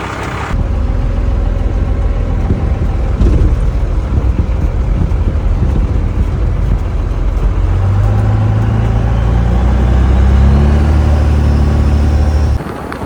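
A 1974 Jeep J20 with a swapped 12-valve Cummins diesel drives on its first test run, a loud, close, continuous low engine drone with heavy wind rush that rises in pitch toward the end.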